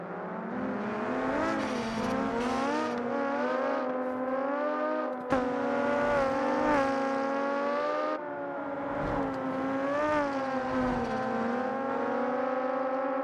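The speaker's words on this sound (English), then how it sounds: "You can hear the engine notes chime away as they hum off into the distance." Formula Three race cars pull away after a red-flag restart, their engines humming and whining in layered, shifting pitches that rise and blend steadily over about thirteen seconds with no talk.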